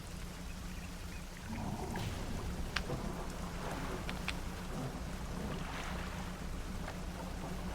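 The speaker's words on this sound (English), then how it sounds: "Means we have a storm." A rainstorm with rolling thunder during a fishing trip in the game Dredge, a steady wash of rain over a low rumble, with a few sharper cracks and splashes and no talking.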